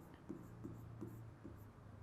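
Steady rhythmic scratching of a pen writing out the steps of a maths solution, four or five short strokes over a low background hum, close and soft.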